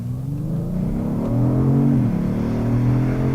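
A 2019 Genesis G80 Sport with a 3.3-litre twin-turbo engine accelerates hard in sport mode, heard from inside the cabin as a steady rising engine drone with a brief dip at a gear change before climbing again.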